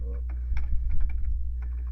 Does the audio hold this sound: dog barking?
no